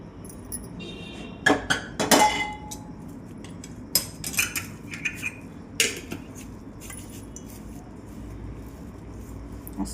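Stuffing masala for brinjal mixed in a bowl, with sharp metallic clinks of a spoon against the vessel in irregular bursts over a quiet background.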